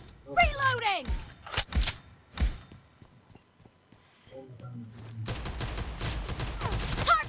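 Desert Eagle pistol shots in PUBG Mobile, several sharp separate reports early, then a pause and a denser burst of shooting near the end, with someone talking over the action.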